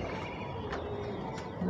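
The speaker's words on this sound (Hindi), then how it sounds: "देखिए ये जो पंछी उड़ते रहते हैं," Pigeons cooing outdoors among other birds, soft repeated coos and faint chirps over a steady ambient background with light noise.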